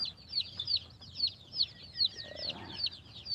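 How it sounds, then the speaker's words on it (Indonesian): Baby chickens chirping in steady high-pitched peeps, repeated rhythmically and fairly close, with a faint low background hum and no talking. "Di sini juga ada anak ayam."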